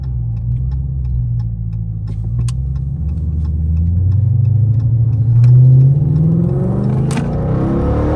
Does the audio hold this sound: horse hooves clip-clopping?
no